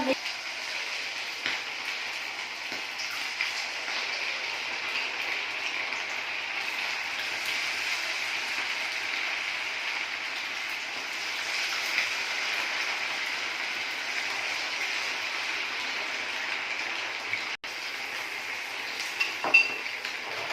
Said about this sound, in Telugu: సో ఇప్పుడు మన ఆయిల్ హీట్ అయిపోయింది కాబట్టి మనం ఈ మంచూరియాని అందులో ఆయిల్లో ఫ్రై చేయాలి.